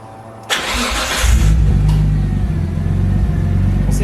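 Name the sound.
car engine running and revving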